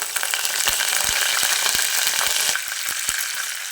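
Spice paste and curry leaves frying in hot oil for a tempering, a steady dense sizzle with scattered sharp pops and crackles running through, close and loud, with no one talking.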